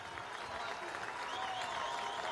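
An audience applauding at an official ceremony for an oil-industry event: a dense, even wash of clapping from a crowd that carries steadily throughout.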